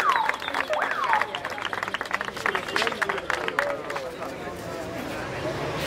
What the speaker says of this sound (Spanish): Fuerte aplauso para Javier.